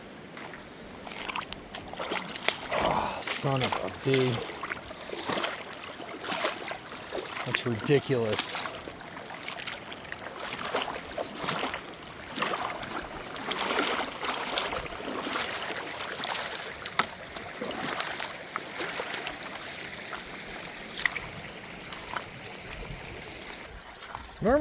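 Footsteps of a hiker in trail shoes sloshing ankle-deep through leftover storm water on the Appalachian Trail in Virginia, a series of irregular splashes and swishes up close, with a man muttering in between.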